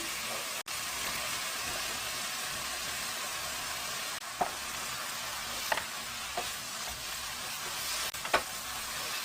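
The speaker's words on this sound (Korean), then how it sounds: "버섯을 여기다가 넣고 볶아줘요" Mushrooms stir-fry in a hot pan, a steady dense sizzle running throughout with occasional soft taps and scrapes from stirring.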